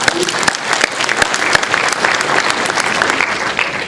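A studio audience at a quiz show breaks into loud, close applause, with sharp claps crackling over a dense wash of hands that holds steady throughout.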